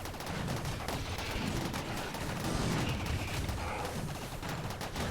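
Sniper gunfire in the Rimworld video game, a dense continuous fusillade of rapid overlapping shots and bursts, loud and unbroken throughout.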